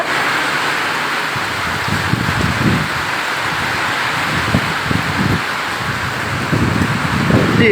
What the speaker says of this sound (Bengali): বৃষ্টি বৃষ্টি বৃষ্টি হচ্ছে প্রচণ্ড